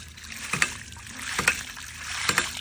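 A water-powered ram pump cycles with a repeating thump-and-splash about every 0.85 seconds, three evenly spaced pulses over a steady rush of flowing water, recorded close up while its cycle time is being adjusted.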